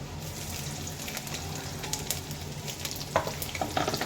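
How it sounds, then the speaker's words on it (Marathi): Green chillies fry in hot oil with roasted peanuts for poha, giving a steady close sizzle with a few brief stirring clicks near the end. "शेंगदाणे भाजलेले आहेत तर त्याच्यामध्ये आपण टाकूयात मिरची."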